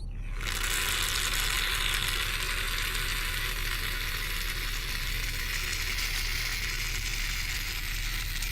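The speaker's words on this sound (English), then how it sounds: "If you would, Dr. Beatrice, please apply the bioregenerative sealant spray to the patient's cranium" A bioregenerative sealant spray is applied to a patient's cranium in a neurosurgery ASMR roleplay, giving a steady, close hiss that runs unbroken for over eight seconds.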